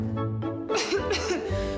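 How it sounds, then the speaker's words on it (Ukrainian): A single harsh cough stands out among voiced sounds, close and moderately loud, with a tonal, whooping quality that suggests a voice performing it. "Кашель"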